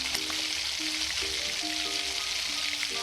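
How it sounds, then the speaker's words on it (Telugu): Grated coconut being stirred into a tomato curry sizzling in a pan, giving a steady soft hiss of frying with faint musical tones in the background. "ఇప్పుడు 1 కప్పు కొబ్బరి వేసుకుందామండి"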